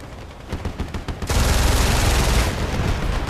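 Pistol fire in the game Battlefield Play4Free comes as a quick run of sharp close shots, then gives way to a dense, loud, continuous rattle of gunfire and booms.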